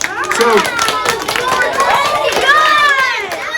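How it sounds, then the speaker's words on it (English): A small group claps in quick, scattered applause after a science demonstration, with children's excited voices and chatter mixed in over the clapping. "Give her a round of applause."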